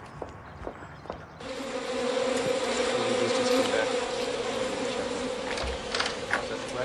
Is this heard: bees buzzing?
yes